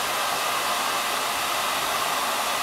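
Hair dryer blowing steadily on sectioned hair pulled downward, a constant loud close whoosh with no break and no talk.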